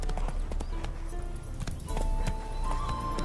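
Roach, a horse in The Witcher 3 video game, clip-clops with steady hoofbeats alongside game music and ambience, the rhythmic hooves running throughout at moderate level.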